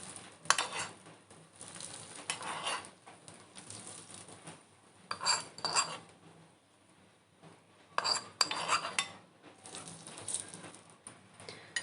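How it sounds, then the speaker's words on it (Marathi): Hot tempering poured over white dhokla crackles in short sizzling bursts that come and go, with light metallic clinks of a pan and spoon and no speech. "आता ही फोडणी मी ढोक्यावर घालून घेणार आहे."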